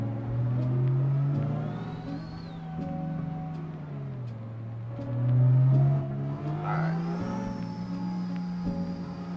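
A racing-game car revs hard while drifting, played with a MOZA R5 wheel setup, its engine tone climbing and dropping through gear shifts, loud and steady, with brief higher whines between shifts.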